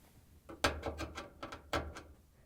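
A ratcheting screwdriver backs out the screws on a Samsung dryer's lint filter cover, giving a few close, crisp clicking bursts in quick succession inside the machine.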